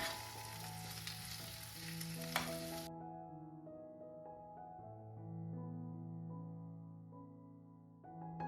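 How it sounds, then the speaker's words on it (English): Sliced potatoes and onion frying in olive oil in a cast iron pan, a soft continuous sizzle with background music over it, no voices. "Add sliced potatoes and onion. Fry them until potatoes are done."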